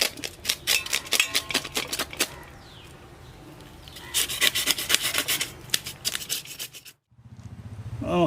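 Scales being scraped off a karimeen (pearl spot) fish, a series of quick rasping strokes, close and fairly loud, with a pause midway and the clip ending in a duller rustle.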